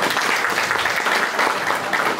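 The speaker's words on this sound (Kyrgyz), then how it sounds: "Кол чаап коесузбу?" Audience applause at a Kurban Ait community gathering in Moscow, a dense, steady wash of clapping from many hands that fills the whole moment.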